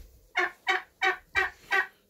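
Five loud gobbles from a turkey close by, evenly spaced in a steady rhythm with brief silences between.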